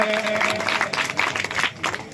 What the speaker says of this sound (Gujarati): એમને ખૂબ ખૂબ તાળીઓથી આપણે વધાવીશું